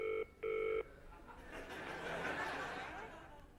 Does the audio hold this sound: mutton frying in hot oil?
no